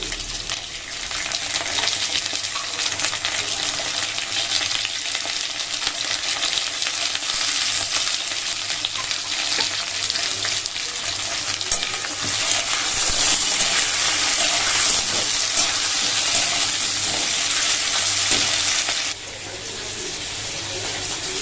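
Potatoes frying in a pan with bay leaf, dried chilli and cumin, a steady close sizzle and hiss running throughout with occasional stirring, dropping slightly quieter near the end.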